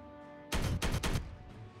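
Gunfire in the strategy game Warhammer 40K Regicide, three quick loud shots in a tight cluster over a low background hum, with no voices.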